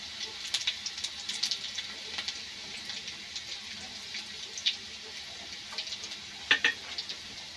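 Cumin seeds sizzle in hot oil for a Marathi dal kanda, with garlic already in the pan: a faint, steady hiss dotted with small scattered pops and crackles, no voices.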